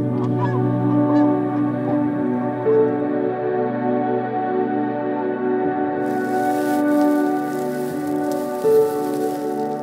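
Geese and other waterfowl honk and call repeatedly on a farm lake, a dense overlapping chorus with a steady pattering like rain beneath it and a brighter hiss joining partway through.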